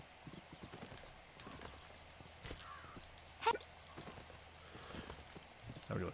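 Horse hooves clip-clop faintly and steadily in The Unicorn Princess video game, a light rhythmic patter of steps with a soft game ambience behind and no talking.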